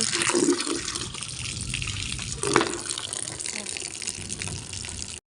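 Water gushes steadily into a bucket from a tap, a continuous close splashing rush, with a voice talking faintly underneath before the pour stops abruptly.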